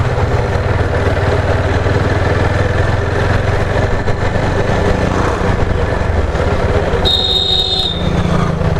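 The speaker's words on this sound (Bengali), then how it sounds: "দু তিনটে বাইক আসছে সামনে থেকে।" Engine noise from a ride-hailing vehicle on a quiet road, a steady loud hum as two or three motorbikes approach from ahead, with a brief high whine near the end and no speech.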